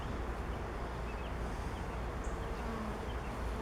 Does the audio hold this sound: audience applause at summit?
no